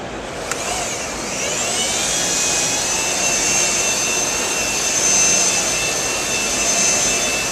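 Rotary polisher working compound into car paint, kept moist with light pressure: a steady, close whirring whine that rises in pitch early and then holds evenly throughout, with no talking.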